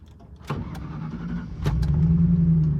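A custom Ford F150 truck, freshly fuelled with gas and fuel treatment, cranks briefly and then catches, settling into a steady, close, low engine rumble.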